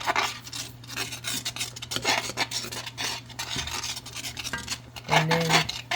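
A utensil scrapes and stirs thickening homemade gravy in a pan, rasping steadily over the bottom to lift drippings, close and continuous with a low simmering hum beneath.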